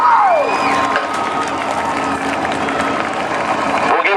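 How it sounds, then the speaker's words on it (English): Crowd cheering and applause for a modifieds race car driver at Kil Kare Speedway, a dense, steady roar of clapping and shouts held at full level throughout, with a whistle-like rising tone at the start. "How about a round of applause for the number 2 of Kyle Jones?"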